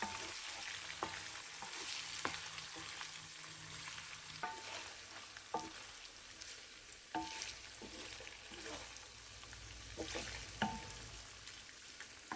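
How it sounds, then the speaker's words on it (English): Marinated paneer tikka pieces fry in a pan with a soft, continuous sizzle, broken by occasional clacks and scrapes of stirring, all fairly quiet and close. "Now add our marinated paneer tikkas to the pan. Fry until they have a lovely golden color"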